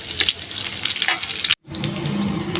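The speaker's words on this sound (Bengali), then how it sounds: "পেঁয়াজ কুচিটা কিছুক্ষণ নেড়ে চেড়ে হালকা ভেজে নিব।" Chopped onion frying in a pan for a banana blossom and dried fish curry, a steady broadband sizzle with stirring scrapes that drops out briefly near the middle before resuming.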